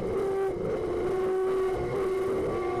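Turismo Carretera race cars roar through a first corner at a race in Neuquén, a dense sustained engine whine heard from a distance, with a steady pitch that shifts slightly as the pack goes by.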